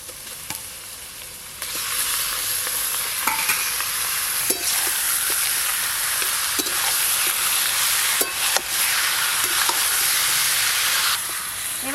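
Spiced chicken pieces and chopped onions fry in hot oil while being stirred. A loud, steady sizzle starts after a quiet second and continues, with scraping clicks from the spoon throughout and no voices.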